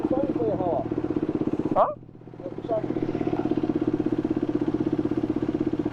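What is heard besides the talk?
motorcycles riding in a group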